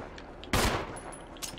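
A single loud, close gunshot rings out during a Resident Evil zombie fight in a mansion, followed by faint game effects; no one speaks.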